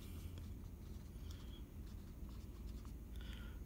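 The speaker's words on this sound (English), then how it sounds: "Let me write it down." Writing out a gravity formula, a faint, continuous scratching of pen or marker over a low steady room hum, with no voices.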